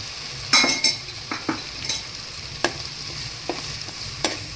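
Onions sizzling in a pan for chhole, with a soft frying hiss underneath scattered clinks and scrapes of a spoon stirring against the metal.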